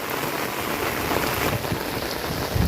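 Heavy monsoon rain pours down in the Gir area during flooding, a dense, steady roar of drops hitting the ground and surfaces close by, with occasional heavier splashes and no voices.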